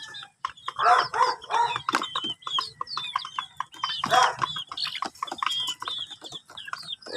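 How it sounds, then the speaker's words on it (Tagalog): Small chicks and larger chickens in a cramped coop after rain, busy overlapping clucks and chirps close by, with sharper squawks bursting out at intervals and no talking. "Basa pag umulan itong mga sisiw na maliliit."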